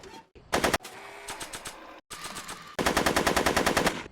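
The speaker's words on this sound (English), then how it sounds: "finding it difficult to concentrate with all the bullets flying around my head, Mr. Corleone" Video game gunfire in a Back to the Future game: a short opening burst, then scattered shots, then a loud, rapid machine-gun volley sustained to the end, with no talk.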